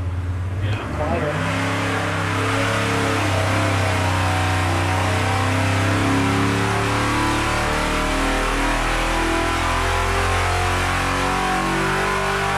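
A 1974 Oldsmobile 350 V8 fitted with headers runs on a dyno, holding a loud, steady high-rev roar with a brief rise at the start and rich low harmonics throughout, the engine sound continuous and close.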